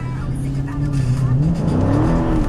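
A Dodge Challenger T/A 392 engine revs loudly and roars close by, a deep throaty drone rising in pitch.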